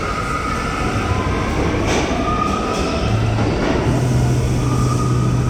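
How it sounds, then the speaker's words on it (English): A New York subway E train rumbles loudly through the platform at W 4 Street station, with steady rolling wheel noise, metallic clatter and rising squeals as it passes close by. "False alarm, just an E-train."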